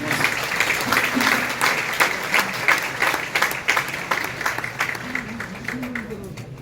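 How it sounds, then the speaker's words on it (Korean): A church general assembly applauds to welcome a pastor with sustained, dense clapping from a large crowd that thins toward the end, as a voice begins speaking over it. "박수로 환영해 주십시오."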